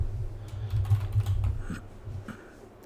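Quick, irregular keystrokes tap on a computer keyboard at close range, clustered in a short burst over a low background hum, with no talking.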